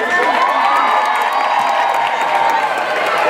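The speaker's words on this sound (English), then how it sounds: "Cheer it on, cheer it on." A crowd at a basketball game cheers and shouts loudly and continuously as a half-court shot is attempted, with excited voices and whoops throughout.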